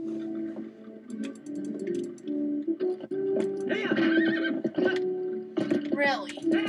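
A horse in the video game Zelda Twilight Princess neighs and whinnies several times in short bursts, with game effects and hoof sounds, while someone talks over it.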